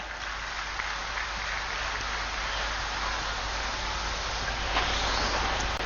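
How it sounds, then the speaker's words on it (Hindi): A large outdoor crowd at a degree college foundation-stone ceremony on a college ground in Chaibasa applauds in a dense, steady hiss of clapping that continues without a break. "तालियों के साथ स्वागत करें"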